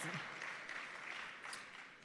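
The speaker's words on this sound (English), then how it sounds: "Yes, it deserves a round of applause" Faint, distant applause from an audience at a government ministry event, light scattered clapping that swells and fades over two seconds, with a voice briefly audible at the start.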